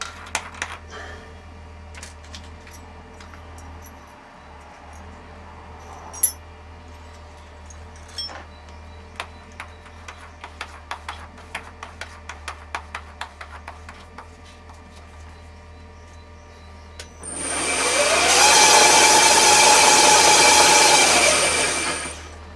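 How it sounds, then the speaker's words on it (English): A steady, loud drill whine through metal for a quick change tool holder starts partway through and holds for several seconds, after a stretch of scattered clicks and taps from a workshop. "It's a fair old bit to drill through"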